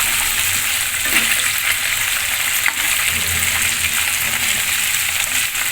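Fish pieces frying in hot oil for a Bengali katla fish-head muri ghonto, a steady, loud crackling sizzle that runs continuously without talk.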